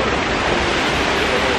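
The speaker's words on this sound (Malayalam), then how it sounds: "വെള്ളച്ചാട്ടത്തിൻ്റെ നല്ല എരമ്പലുണ്ട്" Roar of a forest waterfall, heard from its base at the end of a trek: a steady, dense, broadband rush of water that stays loud and unbroken from start to finish.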